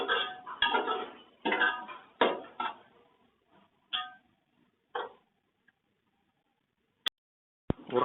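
A spoon scrapes and clinks against a bowl mixing thick yogurt and biryani masala in short bursts, fading to sparse taps, then two sharp isolated clicks near the end.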